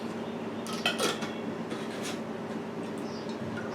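A lid clicks and clatters onto a container of strawberries steeped in 100-proof moonshine, a few short sharp knocks of plastic or glass close by, then quiet rustling.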